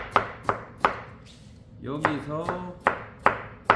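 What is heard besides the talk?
knife julienning radish for water kimchi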